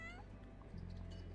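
A cat in the video game Sherlock Holmes: The Awakened gives a short, faint meow at the start, followed by quiet background ambience.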